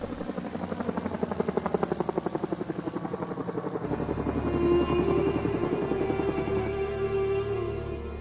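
Helicopter flying, a steady rapid rotor chop pulsing evenly and fairly loud at first, then blending into a smoother continuous engine drone with a faint whine.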